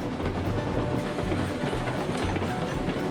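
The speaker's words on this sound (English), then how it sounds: "we're going to reverse each half of the train into its own track." Freight train reversing slowly in the Railroads Online video game, a steady low rumble and rolling clatter of rail cars with faint rhythmic clicks, continuous and moderately loud with no voices.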